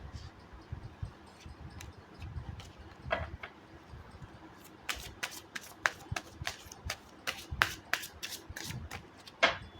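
A deck of tarot-style cards is shuffled by hand, soft rubbing and handling at first, then a rapid series of crisp, close slapping riffles; a voice is briefly heard underneath.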